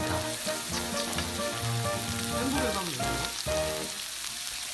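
Korean beef meat rolls sizzle steadily on a lightly oiled hot grill plate, a continuous crackling hiss with music playing underneath throughout.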